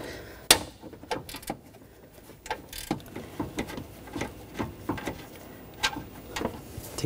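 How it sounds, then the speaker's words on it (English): A 10mm ratchet wrench backs out a bolt on the A/C condenser line of a 2016-2022 Honda HR-V, giving close, crisp bursts of rapid ratchet clicks in uneven strokes, with brief metallic knocks between them. "we'll do the same 10mm ratchet wrench"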